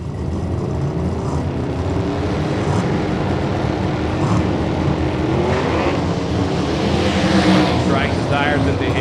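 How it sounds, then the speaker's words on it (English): A twin-turbo Limited Street drag race car launches and roars down the track, a loud sustained engine drone with rising pitch sweeps as it accelerates away, while an announcer talks over it. "that's a twin turbo car"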